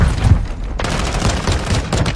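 Rapid loud gunfire from a video game firefight, a dense burst of shots close up, with a sharp crack partway through.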